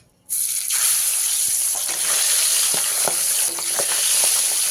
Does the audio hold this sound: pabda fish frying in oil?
yes